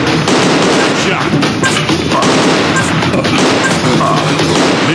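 Rapid gunfire from a shooting video game, dense bursts of shots crackling continuously and loudly throughout, with a game voice announcing events over the battle noise.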